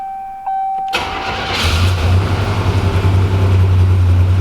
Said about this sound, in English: So it fires up pretty quickly.